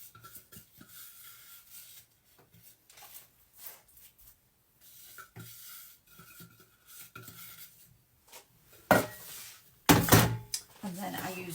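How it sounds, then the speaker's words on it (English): A big glass presses a crushed biscuit base into a cake tin for a Cadbury mini egg and Dairy Milk cheesecake, giving soft scraping, tapping and clinking sounds, with a few louder knocks near the end. "And then I use a big glass to press it down."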